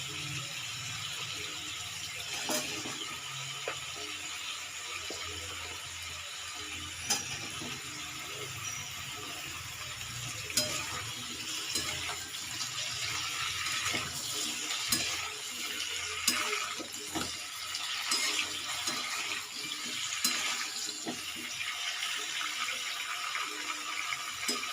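Eggplant and drumstick stalks are stirred in a cooking pan for a Bengali shukto, with soft clinks of the utensil and a light, steady sizzle running throughout at a low, close level.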